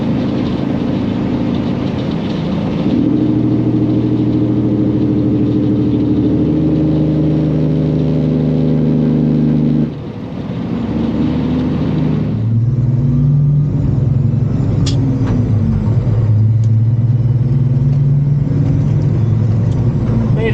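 A flatbed truck engine drones loud and steady while driving in rain, its pitch stepping down and back up through gear changes, with a brief dip near the middle.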